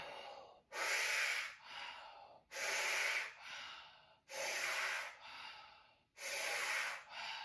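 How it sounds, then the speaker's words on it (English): Deep mouth breaths during a seated back stretch, four long airy exhales each followed by a softer inhale, close and even in rhythm. "6 breaths through the mouth"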